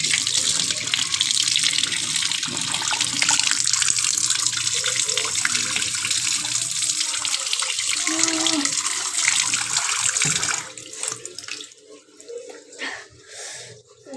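Water runs steadily from a tap in a loud, close, continuous rush for about ten seconds, then cuts off, leaving quieter handling sounds.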